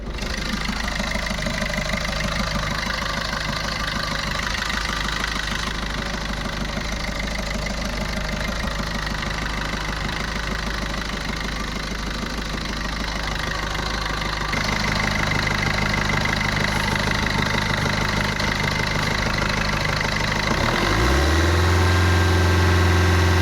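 A 2018 Maruti Vitara Brezza VDi diesel idles with a steady, close, clattering mid-pitched engine drone, then the tone shifts and deepens sharply near the end.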